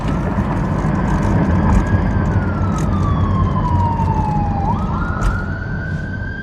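An EMS ambulance siren passes close by, its loud wail sweeping steadily down in pitch and then jumping back up, continuous over steady traffic noise with no talking.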